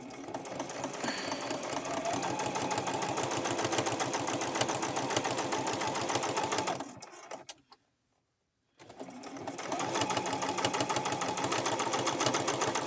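A sewing machine stitches a cloth menstrual pad in a fast, steady mechanical chatter, stopping for about two seconds of silence while the presser foot is lifted and the fabric turned, then running on again.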